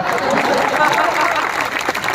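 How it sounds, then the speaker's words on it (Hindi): Loud applause from the audience at a Hindi kavi sammelan comedy poetry gathering in Rajnandgaon, dense, sustained clapping filling the whole moment, with faint crowd murmur mixed in. "एक बार जोरदार तालियां बजाएं।"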